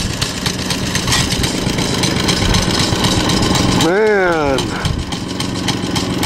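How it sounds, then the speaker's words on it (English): A mini bike engine with a hot cam idles steadily and loudly up close throughout, with someone talking over it. "Give me a walk around on the mini bike. Sounds like it's got a hot cam in it."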